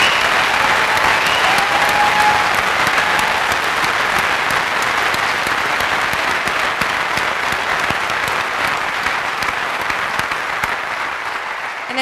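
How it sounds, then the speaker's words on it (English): Sustained applause from a union forum audience as honored members stand, dense continuous clapping from a large crowd, loud and even for the whole stretch, fading slightly toward the end. "Let's give them a round of applause."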